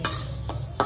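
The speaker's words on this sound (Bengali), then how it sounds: "এখানে মুগ ডাল ভাজছি।" Mung dal frying in a pan, a steady sizzle under a couple of quick scraping stirs, close and clear.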